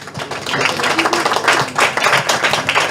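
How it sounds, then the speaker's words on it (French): Audience applause at a literary prize ceremony, a steady wash of many hands clapping throughout, fairly loud and close. "Applaudissements"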